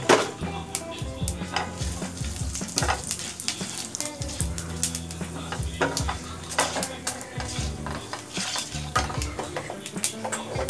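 A dried red chili and five-spice seeds tempering in hot oil, sizzling under frequent clinks and scrapes of a utensil stirring against the pan, close and busy throughout, no voices.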